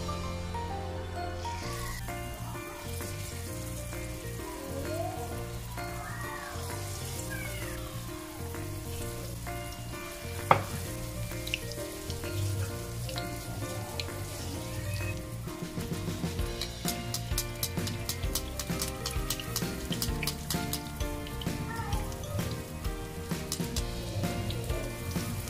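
Apple fritters fry in hot oil with a steady, soft sizzle and crackle, heard faintly under a musical background throughout.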